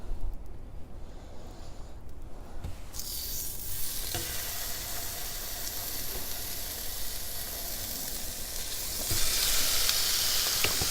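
Three pieces of sirloin steak hit an oiled Blackstone griddle and break into a loud, steady sizzle and hiss that builds and keeps going, with a brief quiet stretch before the meat goes on.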